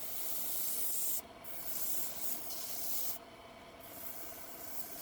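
Steady, continuous rubbing and scraping of an abrasive sanding sponge on a turned wooden baby rattle, close up, with two brief pauses in the strokes.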